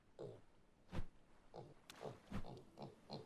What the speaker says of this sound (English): we have a water pig here